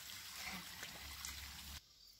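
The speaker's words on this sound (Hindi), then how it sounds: "ये नेचुरल वाटर है, इसको पानी का धारा भी बोलते हैं।" Natural cold-water stream trickling in dense forest, a steady faint wash of running water that cuts off abruptly near the end.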